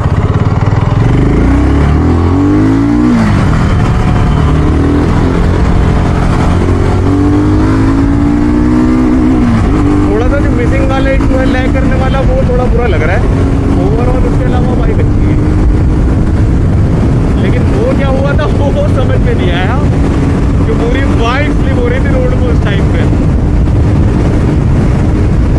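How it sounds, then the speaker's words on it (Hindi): A BSA Gold Star 650 single-cylinder motorcycle engine while riding, a loud, steady thrum with rising and falling revs through gear changes, under heavy wind buffeting on the microphone. "इंजन साउंड थोड़ी सी और बेहतर हो सकती थी"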